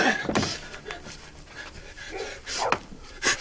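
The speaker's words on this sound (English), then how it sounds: "Those are the watchman's dogs." Dogs belonging to a night watchman pant in quick breathy bursts with a few soft whimpers, fairly close, in a quiet outdoor night setting with brief pauses between sounds.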